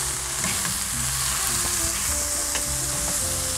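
Peppers and anchovies frying in a pan for Korean myeolchi bokkeum, a steady loud sizzle with light stirring scrapes running through it, close and continuous, with no talking.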